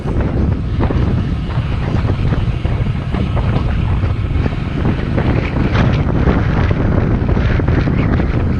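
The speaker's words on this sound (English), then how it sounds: "Hopefully you can hear me all right in this headwind" A headwind roars across a cyclist's microphone on a sunny countryside ride near Saltby in Leicestershire: a loud, continuous buffeting rumble with no speech.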